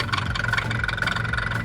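Arctic Cat four-stroke snowmobile engine, a 2012 ZR-series sled, idling with a steady, rough low rumble and a constant mid-range drone, close and continuous with no voices.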